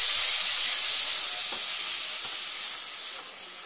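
Onion paste for a surma fish gravy sizzles and roasts in a pan, a loud, steady hiss that fades slowly toward the end, with no voices over it.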